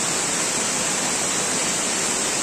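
Savruk waterfall in Kahramanmaraş pours in a dense, unbroken roar of cascading water, loud and close, with no other sounds standing out.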